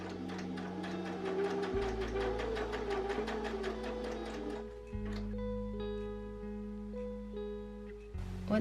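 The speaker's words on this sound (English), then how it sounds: "And just sew" A sewing machine stitches a seam along a marked line on a milkmaid-style dress, running in a fast, steady ticking rhythm for about five seconds before stopping, with soft music playing underneath.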